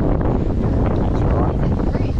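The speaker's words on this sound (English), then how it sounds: "Still bloody windy." Steady, loud wind on a beach buffeting the microphone, a constant low roar with gusty rumbles throughout and no clear pauses.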